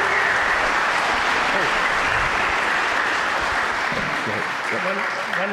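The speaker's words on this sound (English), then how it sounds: "Will you guys give Carl a round of applause?" Loud, sustained applause from a church congregation fills the room, with voices speaking over it as the clapping tapers near the end.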